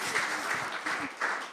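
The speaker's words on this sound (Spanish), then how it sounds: "Te damos un aplauso en esta noche" Congregation clapping in a church gathering to welcome a guest, a moderate, fairly distant patter of hands swelling and easing in uneven bursts.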